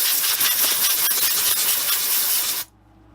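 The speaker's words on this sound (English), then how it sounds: "I stop and blow it off with compressed air." Compressed air blasts dust off a resin and wood piece on a stopped lathe, one loud steady hiss lasting a couple of seconds before cutting off abruptly into near silence.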